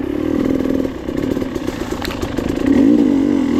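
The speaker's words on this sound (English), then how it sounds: "My bike's still cold, just letting it warm up here." A cold dirt bike engine idles while warming up, running as a steady, close, throbbing putter that grows slightly louder and rougher near the end.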